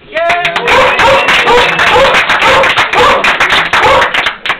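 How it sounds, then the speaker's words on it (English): Loud, close clapping from a bookstore event crowd in Ridgewood, New Jersey, with bursts of hand claps throughout and a brief voice at the start. "This is your applause."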